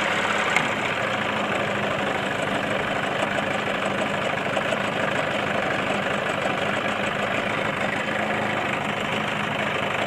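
Old 1975 Evinrude 9.9 HP outboard motor idling steadily at low speed on a lake, a continuous close, even engine rumble with a slight knocking texture and no voices.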